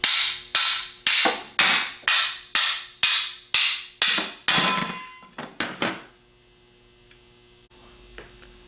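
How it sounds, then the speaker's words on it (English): A ball peen hammer taps the outer edge of an alternator's front plate: about ten evenly spaced, ringing metallic strikes, then a few quicker lighter taps, followed by quiet with a faint electrical hum. "tap down on the outer part of the front plate with a ball peen hammer"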